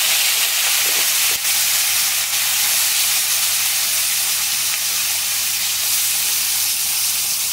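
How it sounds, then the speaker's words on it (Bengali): Prawns dropped into hot oil in a pan, frying with a loud, dense, continuous sizzle and spatter, close up and steady throughout, with one sharp click early on. "তো তেলটা গরম হয়ে গেছে, আমি চিংড়ি মাছগুলো ছেড়ে দেবো।"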